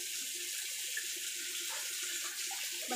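Kitchen tap water running steadily into a sink while a small onion is washed by hand, a continuous close hiss with faint splashes and no talking.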